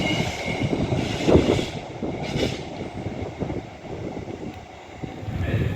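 A Pendolino train passes at Rugby station, a broad rumbling rush of wheels and carriages heard fairly close, with wind buffeting the microphone throughout.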